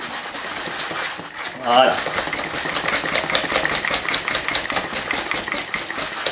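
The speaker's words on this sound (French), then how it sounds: "On mélange bien" Eggs being whisked into Genoa bread (pain de Gênes) batter, a steady, rapid clicking beat of the whisk against the bowl, close and moderately loud, with a brief word spoken partway through.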